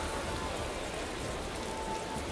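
Steady, dense rain hiss in the racing management game Motorsport Manager on a wet race day, an even wash of sound with no voices.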